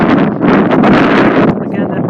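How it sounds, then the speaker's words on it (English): Wind buffets the microphone outdoors on a ridge with distant mountain views, a continuous loud rumbling roar that surges and eases over two seconds. "part for the wind because it's blowing up again."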